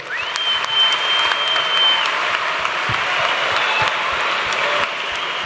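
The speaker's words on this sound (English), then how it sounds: "Let's give another massive round of applause" An audience at a school talent show applauds after a soccer team's act, sustained close clapping with a faint crowd murmur beneath it, tapering slightly near the end.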